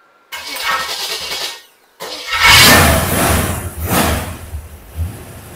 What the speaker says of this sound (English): So the next thing we're going to do is start this engine up and let it run for the last time.